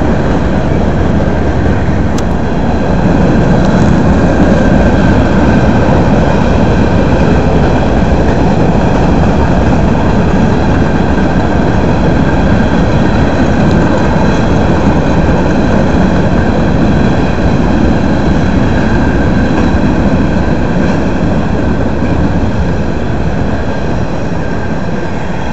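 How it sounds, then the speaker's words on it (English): A heavy freight train rumbles past steadily and loudly for the whole stretch, a dense low roar with a faint high whine and no voices. "SF train's hauling a freight"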